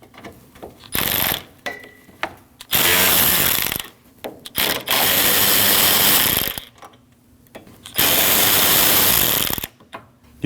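Ratchet wrench removing the three 10mm bolts holding the hood latch on a 2012-2016 Honda CR-V 2.4L, heard as several loud bursts of rapid clicking separated by short pauses, close up with no talk.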